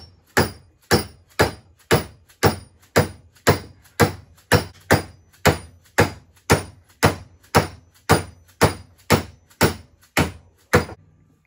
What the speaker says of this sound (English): use a vise or something to just hold the coupling part so that you can pound pipe through the coupling